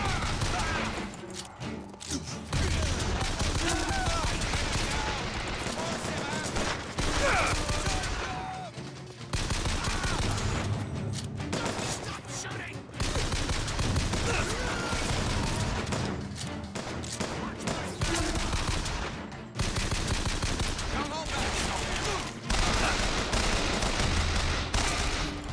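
Sustained gunfire in the shooter Bioshock Infinite, with long stretches of rapid shots and bursts broken by brief pauses, mixed with game effects and occasional voices.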